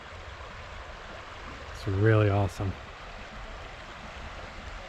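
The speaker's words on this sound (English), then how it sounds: "The sound of the water." Flowing water of icy Bushkill Creek at Jacobsburg State Park, a steady soft rushing wash throughout, with someone speaking briefly midway over it.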